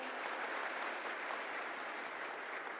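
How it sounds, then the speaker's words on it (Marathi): Loud, steady applause from an audience at a public gathering, honouring the Chhatrapati Shivaji Maharaj Pratishthan group, dense clapping sustained without a break and with no talking over it. "त्यांच्यासाठी एकदा जोरदार टाळ्या होत्या"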